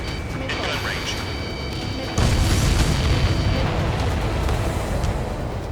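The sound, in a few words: aircraft destroying tankers, explosions in Ace Combat 7 video game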